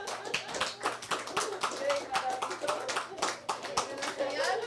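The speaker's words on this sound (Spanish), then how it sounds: "Denle un aplauso a la..." A church congregation applauds, a dense patter of many clapping hands filling the room, with voices and a child's speech mixed in beneath.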